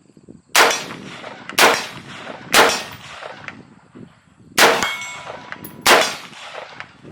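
A Daniel Defense rifle fires unsuppressed five times, each loud, sharp bang ringing out with a short decay, spaced about a second apart at close range.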